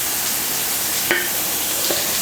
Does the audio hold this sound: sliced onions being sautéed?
yes